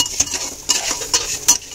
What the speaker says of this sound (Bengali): এবার এটাকে ভালো করে ভেজে নেব।